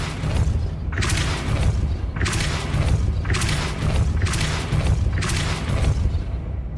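Depulso knockback spell impacts in Hogwarts Legacy, heard as five evenly spaced heavy booming thumps, each a sharp bright burst over a steady low rumble, loud and close with no voices.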